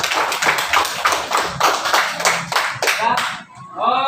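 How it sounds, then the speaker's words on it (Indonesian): Students in a classroom clapping together in a rhythmic burst of about a dozen sharp claps, close and lively, ending with a few voices chattering afterward. "coba berikan tepuk tangan buat Adil"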